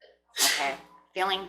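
A single sharp sneeze bursts out between stretches of a woman's speech during a spoken card reading, loud and close, with talk resuming right after.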